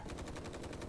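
Rapid automatic turret gunfire in the space game Space Engineers, a dense, even rattle of shots at roughly ten rounds per second, loud and continuous over the short stretch.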